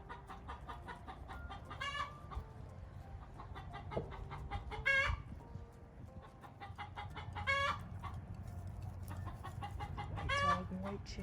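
Chickens cluck and squawk in repeated bursts on a farm with a dog nearby, some calls close and others farther off, over a low background hum and scattered soft voices.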